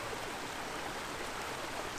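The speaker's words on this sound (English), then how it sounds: "Looking back up the creek again." A creek flowing near a bridge along a hiking loop to a waterfall, a soft steady wash of running water with no distinct splashes and no voices.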